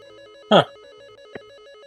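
A telephone rings once in a brief electronic burst, followed a moment later by a fainter blip, over a steady background of tonal music.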